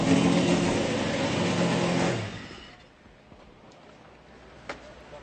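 A loud Sprint Cup Toyota Camry race car engine roars for about two seconds in the Kentucky Speedway garage, then cuts off abruptly, leaving quiet background with a faint click near the end.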